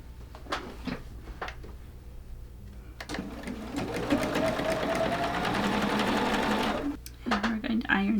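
A sewing machine stitches quilt block fabric pieces together in one steady close whirring run of about four seconds, preceded and followed by brief clicks and handling taps, with a voice heard in the room.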